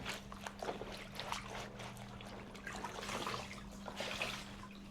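A hand-painted bedsheet being rinsed by hand, water splashing and trickling softly in uneven bursts over a low steady hum, faint and close.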